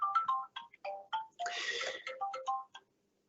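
A mobile phone ringtone plays as a clear, close electronic melody of rapid beeping notes with a brief buzzy stretch, cutting off before a short silence during an online webinar.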